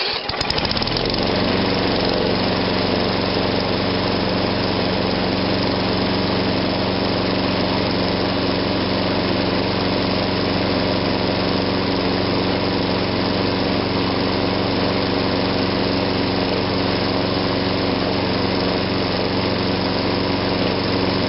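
A lawn mower engine just worked on at the carburettor float bowl starts and then holds a steady, close idle, a continuous buzzing drone with a constant pitch and no voices over it.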